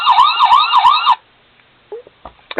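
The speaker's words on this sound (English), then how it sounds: "you'll get the different siren tones" Diecast Dodge Charger sheriff police model toy cycling through siren tones: a loud wailing electronic siren for about a second, then quiet with a few faint clicks and brief chirps.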